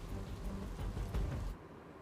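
Heavy monsoon rain in Ahmedabad pours in a dense, continuous hiss with low rumbling underneath, then drops away sharply near the end.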